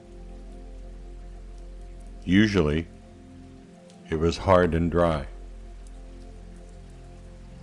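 Steady rain falls with a constant soft hiss and patter through the whole stretch, and a calm voice speaks over it partway through.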